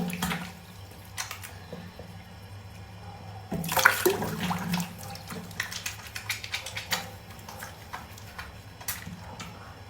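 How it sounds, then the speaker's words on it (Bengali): Water splashes at a sink as a face is washed with face wash, a loud burst of splashing near the middle over a steady low hum, then lighter scattered splashes. "প্রত্যেক দিন রাত্রে এইভাবে যখন মুখটাকে ধুবা"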